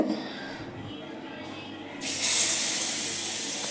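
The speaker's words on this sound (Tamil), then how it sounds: "டிப் பண்ண பன்னீரை தவாவில் போட்டு வறுத்தெடுக்கலாங்க." Paneer dipped in masala sizzles as it fries on a hot tava, a steady bright hiss that starts suddenly partway through and keeps going loud and close.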